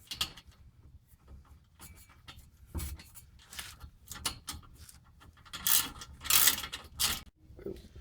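A ratchet tightens a 13mm nut during a turbo install, giving a series of short, uneven clicks and mechanical rattles close by, with a louder burst of activity near the end.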